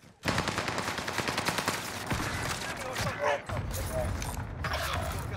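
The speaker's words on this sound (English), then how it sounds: "Taking fire over here." Rapid bursts of automatic gunfire from the Warzone battle royale game, an STG 44 rifle among them, crackle almost continuously at close range, overlaid by dense battle noise and intermittent voice chat.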